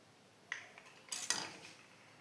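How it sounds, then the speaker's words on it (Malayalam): Egg being mixed into batter in a bowl, heard as a few soft utensil scrapes and clinks against the bowl, brief and quiet, with no talking. "എല്ലാം കൂടി നമുക്ക് മിക്സ് ചെയ്യാം."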